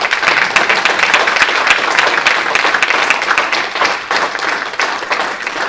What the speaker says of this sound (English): a huge round of applause for Rep.